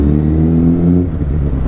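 Motorcycle engine with its original stock exhaust, a loud close revving rumble that holds a steady rising note for about a second, then drops off and settles into a rougher idle.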